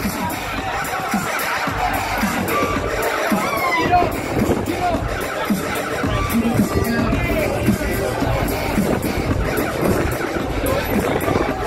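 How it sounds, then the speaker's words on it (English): A loud outdoor crowd cheers and roars at a mountain bike world championship award ceremony in Italy. The cheering is sustained throughout, with an announcer's voice over it and some wind buffeting the microphone. "the crowd is cheering so loud"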